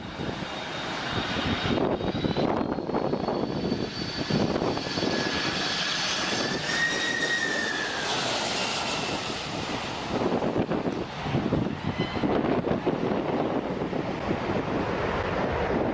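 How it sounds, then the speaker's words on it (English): A fixed-wing airplane roars past low overhead at a beach, its engine droning loud and continuous with a shifting whine, mixed with crashing surf and heavy wind buffeting the microphone throughout. "A plane literally went 2 feet over their heads."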